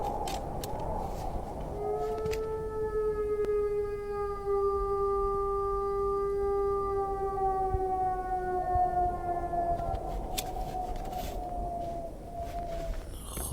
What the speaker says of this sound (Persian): صدای چوپا کابرا بوده، یه موجود افسانه‌ای